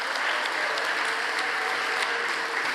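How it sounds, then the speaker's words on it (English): Steady, dense audience applause for award recipients at an awards ceremony, sustained and even throughout with no pauses and no voices. "Let's give them another round of applause."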